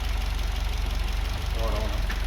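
Old engine idling in a steady, low throbbing rhythm, close and even throughout, with a voice talking over it.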